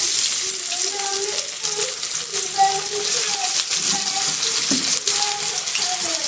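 Whole garam masala, chopped onion and green chillies sizzle in hot oil with caramelised sugar, a steady bright crackle and hiss close by throughout, with faint clinks over the frying.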